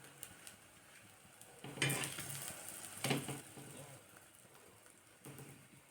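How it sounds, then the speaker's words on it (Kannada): Stuffed aloo and matar paratha with butter cooks in a pan over a low flame, giving a soft steady sizzle with a few louder scraping, stirring bursts from the pan. "ಇದನ್ನು ಲೋ ಫ್ಲೇಮ್ ಒಳಗನ ಬೇಯಿಸ್ಕೋಬೇಕ್ರಿ."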